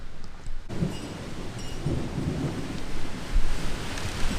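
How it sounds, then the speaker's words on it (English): Steady rain pours outside with deep thunder rumbling through it, a broad continuous wash that swells in louder surges near the end, with no voices over it. "Oh my god, the rain."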